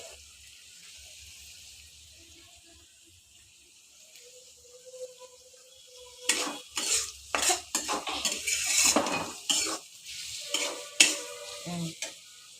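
A small boy stirs food in a cooking pot over heat, starting with a quiet simmer, then a long run of close, loud scraping and clinking strokes against the metal in an uneven rhythm.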